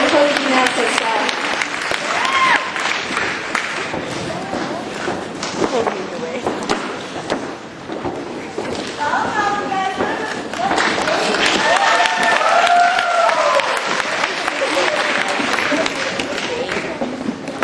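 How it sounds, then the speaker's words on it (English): A large audience applauds the two MCs at the UNAVSA-3 opening ceremony, a steady, dense roar of clapping and crowd noise that stays loud throughout, with voices mixed in. "Give a round of applause for them."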